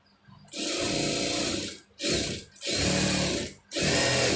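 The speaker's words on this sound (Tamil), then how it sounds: "அந்த அளவுக்கு வந்து இப்போ தைச்சிருவோம்." A sewing machine stitches cloth along a marked line in several loud, close bursts, each running about a second with short pauses between them; no voices are heard.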